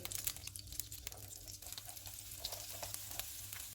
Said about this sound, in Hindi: बटर गर्म हो गया, इसमें आलू डालेंगे